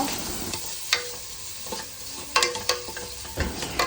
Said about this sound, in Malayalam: ഇടയ്ക്കിടയിൽ നന്നായിട്ട് ഇളക്കി കിട്ടും കേട്ടോ